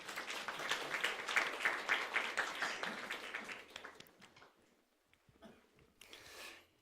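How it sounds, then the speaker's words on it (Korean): A church congregation at a Sunday service claps in congratulation, a dense burst of applause that rises quickly, holds for a few seconds, then thins into scattered claps and fades to near silence. "축하의 박수를 한번 드립니다."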